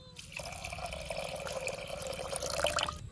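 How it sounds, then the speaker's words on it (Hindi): Water runs into a vessel of washed toor dal, a steady close splashing fill lasting about three seconds with no one talking over it. "अब इसमें ऐड कर देते हैं पानी।"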